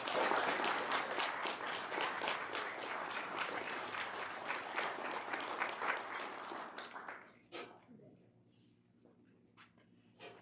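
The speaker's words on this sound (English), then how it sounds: "can we show them with a round of applause" Applause from a church congregation after a Sunday school Christmas program, a dense run of clapping for about seven seconds that fades out, leaving a quiet room with faint rustling.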